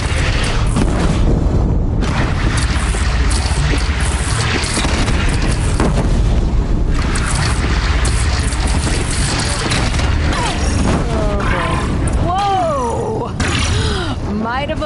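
A bridge is shot down in the Horizon Zero Dawn video game, producing loud, sustained booming and rumbling crashes with gunfire-like bursts, while voices talk over the destruction.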